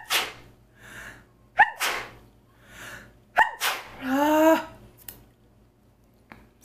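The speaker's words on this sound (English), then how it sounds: "Excuse me, I keep sneezing too." Several sharp human sneezes in a quiet room, a few loud bursts spaced a second or two apart with breathy intakes between them.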